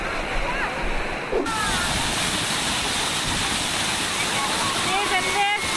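Tham Phra Waterfall in the Thai countryside roars as a broad, steady rush of falling water up close, with splashing on top and a brief shift in tone partway through.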